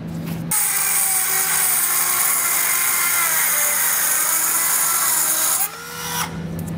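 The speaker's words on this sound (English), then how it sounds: "you will need some sort of cutting tool for this, such as a Dremel tool, which is what we're going to be using" A Dremel rotary tool cuts through a stud beneath a 2021 Lincoln Nautilus, a steady high-pitched whine held loud and close for about five seconds, then winding down and briefly restarting.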